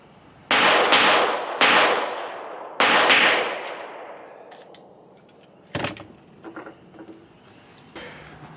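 A Smith & Wesson M&P 2.0 Metal pistol fires three loud, sharp shots about a second apart outdoors, each ringing out and echoing, followed by fainter clinks and handling noises.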